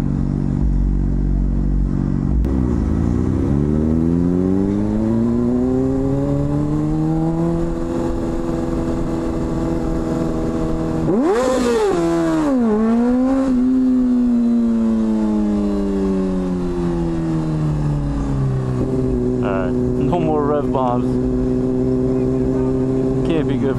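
A car on the Las Vegas Strip revs its engine repeatedly, its pitch rising and falling in sweeping surges, with one sharp, loud rev burst near the middle, heard from close by with faint traffic behind.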